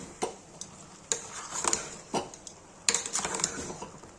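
Spoon stirring tomatoes with turmeric inside a pressure cooker while making aloo soyabean curry, giving a series of scattered scrapes and light metallic clinks, close and moderately quiet, with no talking.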